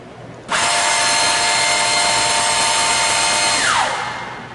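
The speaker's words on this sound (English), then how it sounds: "turn on the drill motor." Drill motor of an OMAL HBD boring machine starting abruptly, holding a steady high-pitched whine for about three seconds, then spinning down with a falling tone as it stops.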